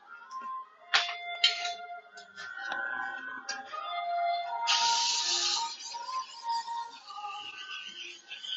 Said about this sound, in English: I'm gonna spray my pan.